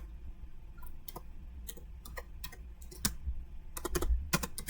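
Keys on a computer keyboard are clicked one after another while a network command is entered, with sharp, irregular taps over a low background hum, close by and without speech.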